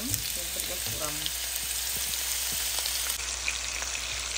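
Chopped onions and meat fry in a pan for a Kazakh nan salma dish, a continuous close sizzle with small crackles and pops, a voice speaking briefly over it at the start.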